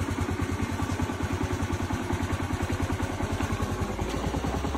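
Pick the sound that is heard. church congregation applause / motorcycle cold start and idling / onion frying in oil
motorcycle cold start and idling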